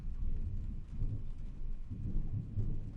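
A low, rolling rumble of a thunderstorm outside in the adventure game Trüberbrook, continuous and heavy in the low end with gentle surges, no voices.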